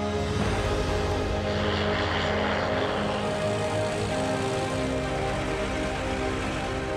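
A restored World War II propeller fighter plane flies with a loud, continuous engine drone and steady roar that holds close and strong throughout, heard alone without voices.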